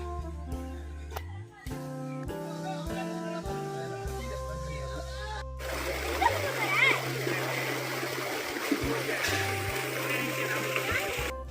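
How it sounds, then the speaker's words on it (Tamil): Kannimar waterfall near Madurai pours steadily in summer when the flow is low, a broad continuous rush of falling water that swells after a musical intro, with no one speaking. "தண்ணி விழுகிற சவுண்டு இங்கே நமக்கு நல்லாவே கேட்குது அப்படின்னா நம்ம அருவிக்கிட்ட நம்ம வந்துட்டோம்"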